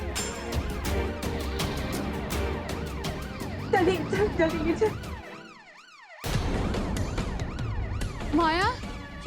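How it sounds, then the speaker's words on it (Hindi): An ambulance siren wails in rising and falling sweeps, loud and close, briefly dropping out partway before returning over a busy, layered background. "माया, यार ये एम्बुलेंस यहाँ पे क्या कर रही है?"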